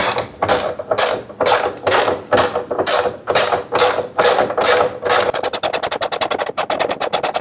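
Ratchet wrench tightening bolts on the Dynamite roller coaster at Freizeitpark Plohn. Loud, close, rhythmic ratcheting strokes repeat steadily, then quicken into a rapid run of clicks near the end. No one speaks.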